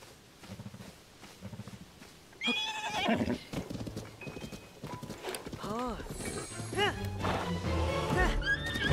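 Video game horse in Zelda: Tears of the Kingdom: hooves clip-clop at a steady trot with the horse neighing and whinnying several times, close and clear, while people talk over it.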